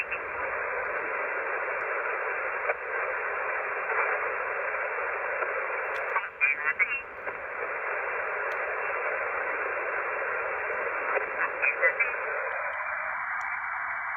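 An 80-meter ham radio on a Yaesu FTX-1 gives a band-limited hiss of static carrying brief bursts of transmission, with a faint voice breaking through in short, choppy snatches.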